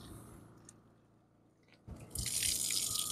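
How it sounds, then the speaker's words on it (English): Water trickling and splashing from a car-detailing wash pad wrung out over a wash bucket, starting quiet, then a louder steady gush of splashing in the last second, close and alone. "you wring it out, you're gonna have a clean wash pad again"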